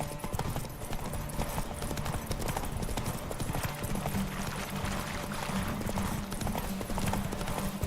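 Geralt's horse Roach gallops in The Witcher 3, a steady dense clip-clop of hooves running throughout, loud and close, with a brief whinny-like tone and no speech over it.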